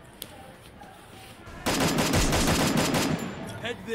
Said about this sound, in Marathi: आता याला नुसते 2-3 डोक्यात गोळ्या घातल्यात